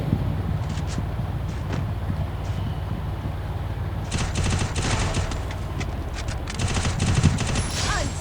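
Gunfire in the Garena Free Fire video game during a fight at a factory: sustained rapid automatic bursts over a constant game background, heavier and denser in the second half, loud and continuous.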